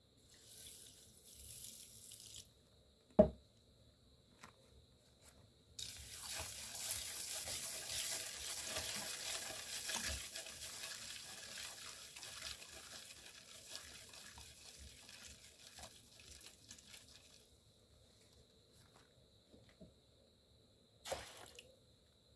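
Tap water runs steadily into a container for mixing with caustic soda while making laundry bar soap, a sustained splashing stream of roughly twelve seconds bracketed by brief clinks and handling noises, close by with no talk.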